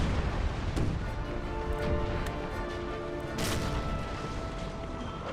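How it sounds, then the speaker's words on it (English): Naval cannon broadside in Empire Total War, with sustained loud rumbling gunfire and scattered sharper cracks and crashes rolling on steadily without any talking. "Because you better stay here just firing on this ship."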